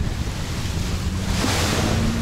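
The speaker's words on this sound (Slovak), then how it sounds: "jak tu bijú tie vlny a jak to tu búcha" Sea waves surging and crashing on a beach at Railay, Thailand, a loud roaring wash of surf mixed with gusting wind noise on the microphone, continuous and close.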